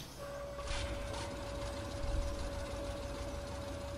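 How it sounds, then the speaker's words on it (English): Tractor engine in Farming Simulator 15 starting up and settling into a steady idle with a constant mechanical hum, fairly quiet and continuous throughout, no talk. "Start engine."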